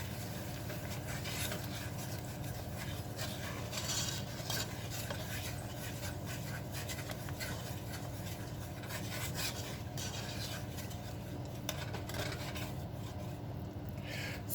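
Sugar and honey simmer in a pan, giving a dense, continuous bubbling hiss with a faint rasping, rubbing texture throughout.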